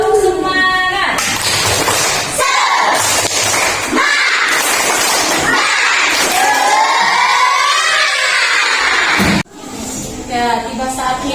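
A school class joins in a spirit clap chant, with loud rhythmic clapping and children shouting and cheering together close by for several seconds, then breaking off briefly before more cheering.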